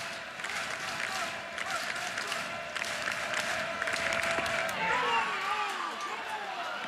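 A softball crowd at a Liberty Flames vs Oregon Ducks Super Regional game cheers and applauds steadily throughout, a dense wash of clapping and voices at moderate distance, fading slightly toward the end.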